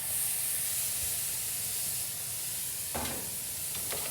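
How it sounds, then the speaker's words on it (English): Marinade sizzles steadily over a cooking pork tenderloin, a continuous close hiss with a couple of brief louder spatters from basting. "I have the marinade, which I'm gonna continuously baste over the pork to add more flavor to it"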